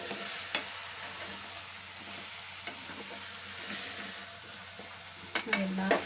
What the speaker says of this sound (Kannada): ಇಷ್ಟನ್ನು ಹಾಕಿ ಚೆನ್ನಾಗಿ ಮಿಕ್ಸ್ ಮಾಡ್ಕೊಳ್ಳಿ